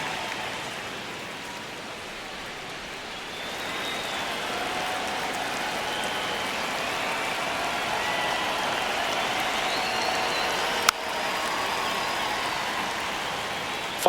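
A baseball stadium crowd at a Phillies versus Nationals game keeps up a broad, steady roar that swells after a few seconds and holds, with a brief sharp crack near the end.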